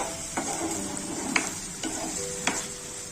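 Chickpea masala with chopped green chilli and coriander leaves being mixed in a pan, a constant sizzle under three or four distinct scraping strokes of a spoon against the metal.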